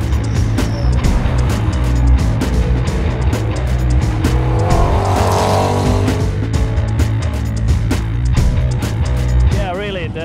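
Mercedes SLS GT1 race car running on track, a loud, close engine drone with gear-change blips and rising and falling revs that continues steadily, with brief squeal near the end.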